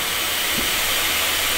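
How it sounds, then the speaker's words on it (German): Compressed air hisses steadily and loudly from a leaking spring brake cylinder on a Unimog U1700 raised on a jack, a continuous close-up rush with no pauses. "Wir hören es zischen. Richtig doll sogar."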